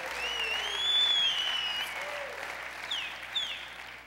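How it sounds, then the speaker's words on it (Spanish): Congregation applauding during a Spanish-language sermon, a steady far-off wash of clapping with a faint hum and a few thin tonal sounds running over it. "Si va a aplaudir, aplauda fuerte"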